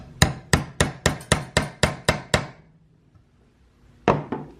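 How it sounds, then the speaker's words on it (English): A hammer taps a pilot mark into a bass guitar neck for drilling, sharply ten times in a steady, quick rhythm, then after a brief pause two more taps land close by. "I want to tap that in there so I got a nice spot for the drill bit to sit"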